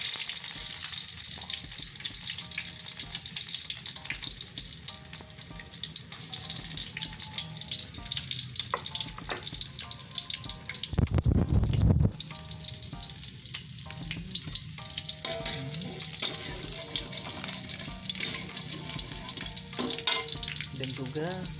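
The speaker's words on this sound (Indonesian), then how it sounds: "kalau minyaknya sudah panas, saya kita memasukkan bawang" Onions sizzle steadily in hot oil in a pan while a simple home-style vegetable dish is cooked, a dense continuous crackle throughout with a brief louder hiss midway, close and with no talking.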